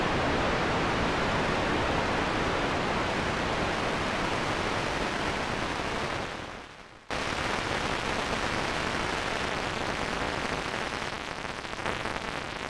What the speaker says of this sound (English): We know it defaults to a pink noise, but you can change that if you want.